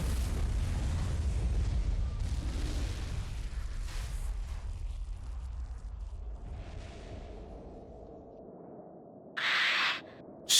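A machine explodes in Fuga: Melodies of Steel 3: a deep, loud rumbling boom fades slowly over several seconds, then a short sharp burst follows near the end.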